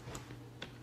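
Two faint, sharp computer mouse clicks spaced about half a second apart, quiet and close, over a low steady hum while configuring CentOS network settings.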